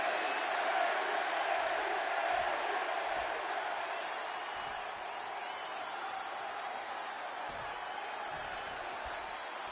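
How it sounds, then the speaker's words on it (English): Arena crowd in Chicago in the wrestling video game WWE 2K26, a dense continuous roar of cheering spectators, loud and steady throughout. "And just listen to this crowd here in Chicago"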